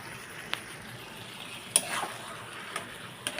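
A fried egg is stirred with tomato paste in a pan, giving a soft, steady sizzle broken by a few sharp clicks of a utensil against the metal.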